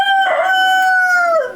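A single loud rooster crow close by at a pigeon racing loft, one sustained call lasting over a second and trailing off at the end, with no talk over it.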